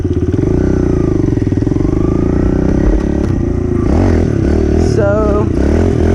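Dirt bike engine held high and revving hard during a wheelie, a loud, rough, continuous drone with slight throttle swells and some clatter, close to the microphone.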